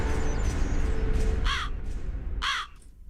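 A crow caws twice, two harsh, fairly close calls about a second apart, sounding over a steady low background rumble.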